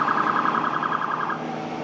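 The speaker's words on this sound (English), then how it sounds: "here come the sirens. Getting ready for the fire department" A loud, wailing fire department siren warbles steadily and close by at a small-town parade, its rapid oscillating tone filling the scene before easing off near the end.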